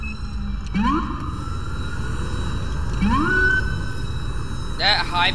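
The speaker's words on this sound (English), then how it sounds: "That high pitched noise you hear is my ambulance." A high-pitched ambulance siren in the LSPDFR police video game whoops upward in repeated rising sweeps over a steady electronic hum, ending in a burst of rapid yelping tones, loud and close.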